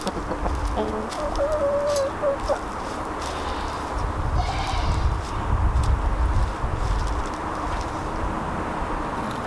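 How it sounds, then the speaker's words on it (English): Chickens cluck and scratch around a garden being readied for planting, with a few short, fairly near calls over a steady outdoor background. "I've got the chickens in the garden scratching around."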